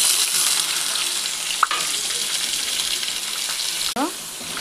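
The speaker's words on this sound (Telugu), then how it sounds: "కడాయిలో ఇప్పుడు ముందుగా ముక్కలు చేసి పెట్టుకున్న టమాటా ముక్కల్ని వేసుకుందాం." Tomato and tamarind pieces fry in a kadai with a steady, bright sizzle that holds throughout. Two brief scrapes of stirring break in, and there is no talking.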